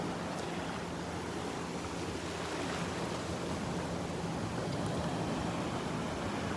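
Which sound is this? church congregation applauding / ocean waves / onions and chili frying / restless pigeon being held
ocean waves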